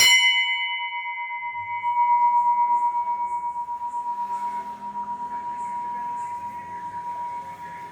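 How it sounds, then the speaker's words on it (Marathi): A sustained ringing temple bell tone hangs steadily throughout, with faint background talk and movement beneath it. "घंटा वगैरे वाजव."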